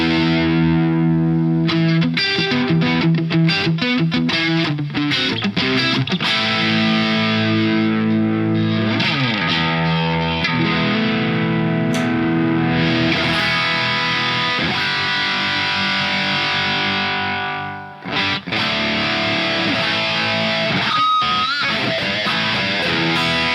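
Electric guitar played through a front single-coil pickup with gain only slightly raised on a Falken1 JamKing amp modeler and multi-effects unit, heard alone as a loud, continuous run of strummed chords and picked notes with a brief dip near the end.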